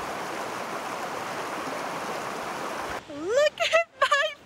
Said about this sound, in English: We are near Rock Creek Lake, hitting up some streams to do some stream fishing.